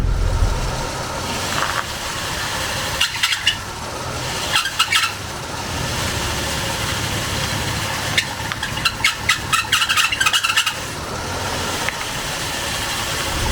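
1985 Ford F150 truck engine idling nearby, a steady low rumble with a few sharp clicks and knocks near the end, no speech.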